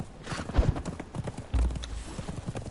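Horse hooves clip-clopping in the video game Conan Exiles, a steady galloping rhythm with a couple of heavier thumps, close and moderately loud, with faint talk underneath.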